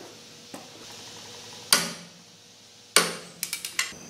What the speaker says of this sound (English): now we're gonna torque these down to 65 foot-pounds